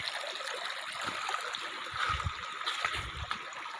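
A small mountain stream in Pauri Garhwal, Uttarakhand, runs as a steady rushing, gurgling flow of water over stones, close and continuous, with no voices.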